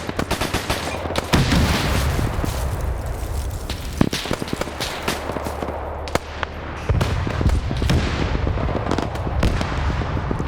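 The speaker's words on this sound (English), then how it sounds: "Now you got their own tanks firing at the infantry. So both sides have HE shells." Dense volleys of explosions and gunfire from a WW2 video game battle, tank HE shells bursting among infantry amid steady machine-gun chatter, loud and continuous with heavy low booms throughout.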